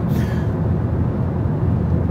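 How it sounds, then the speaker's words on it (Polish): A loud, steady low roar of tyres rolling on a concrete expressway, heard from inside a moving Hyundai Tucson hybrid, continuous with no voices. "tylko słychać szum toczących się po tym betonie opon."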